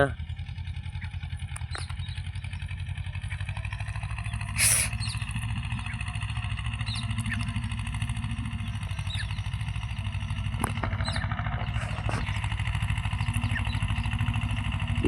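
A steady, low engine drone runs throughout, loud and close, with a brief louder burst partway through and faint voices underneath.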